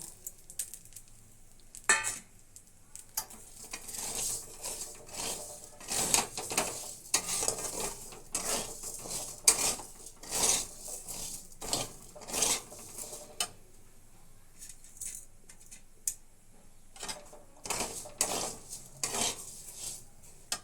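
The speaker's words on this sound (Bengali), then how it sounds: "এবার চালটা দিয়ে দিচ্ছি, দিয়ে হালকা নেড়ে জল দিয়ে দেবো।" Rice is stirred and fried in a pot, producing repeated scraping and clinking of a spoon against metal in uneven bursts over a faint sizzle, close and without speech.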